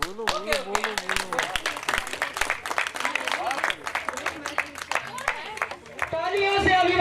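A school celebration of Swami Vivekananda Jayanti brings crowd clapping, heard as sharp rhythmic claps and scattered applause under loud, energetic speech and chanting, with a voice rising near the end.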